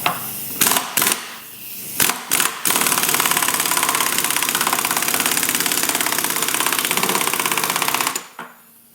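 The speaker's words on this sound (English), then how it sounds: "then we're going to use an impact gun to tighten it" On a BMW ZF transmission output flange, an impact gun gives a few short bursts, then a sustained loud hammering rattle of several seconds while tightening the nut, before stopping abruptly.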